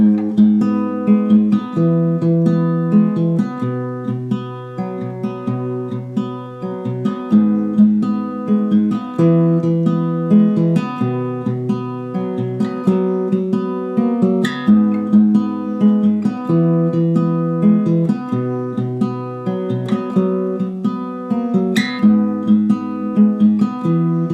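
An acoustic guitar fingerpicks a song's bridge, with steady plucked notes and ringing chords in an even, repeating pattern, played close and alone at moderate volume.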